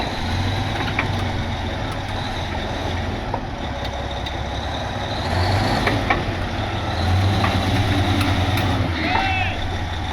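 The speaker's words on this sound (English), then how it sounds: "The engine in that thing actually sounds really good." A heavy bulldozer diesel engine rumbles steadily throughout, low and continuous, swelling slightly at moments, with faint clanks and a few voices in the background.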